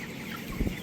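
Broiler chickens in a flock, around twenty days old and suffering from a cold, give a brief soft cluck at close range over a faint, steady background hum.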